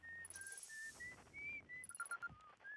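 Whistling from Esker, a character in the VR version of the space exploration game Outer Wilds: a clear, bright melodic tune of sustained notes and short glides that carries on steadily with no other sound around it.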